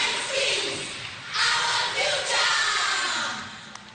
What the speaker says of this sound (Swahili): Makofi mazuri kwa wanafunzi wa hapa Wajir kwa kutuletea onyesho bab kubwa.